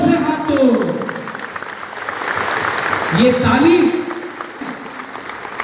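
Crowd at a yarn distribution program in Amarpur applauding steadily, with a speaker's voice talking over the clapping at the start and again midway.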